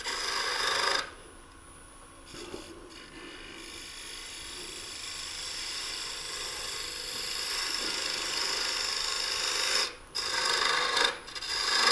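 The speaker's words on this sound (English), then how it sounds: "I turn it back over, rub the bevel to finish up the cuts." A wood lathe spins a small lantern ornament as a gouge bevel rubs the surface to finish cuts, making a steady close rasping scrape that carries throughout, broken by brief gaps when the tool lifts, with no talk.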